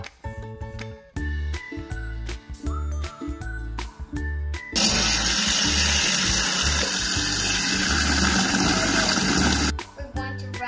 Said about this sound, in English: We're going to run this cold water through the tank for 10 minutes